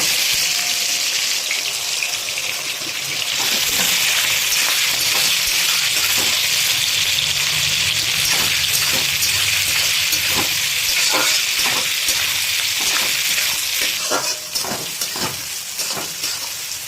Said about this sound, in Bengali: আর দিয়ে দিচ্ছি জুলিয়ান কাটিংয়ে এটা রাখা পেঁয়াজ।